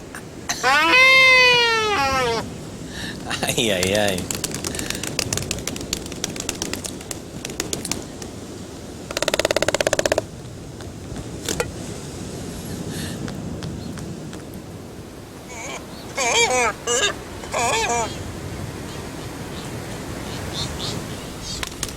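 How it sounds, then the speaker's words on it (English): Galapagos seabirds make courtship hoots and clicking calls in bursts across a windy outdoor scene, with people talking quietly in between. "The clicks, the hoots, the funny walks seem to be a part of a process of pair bonding."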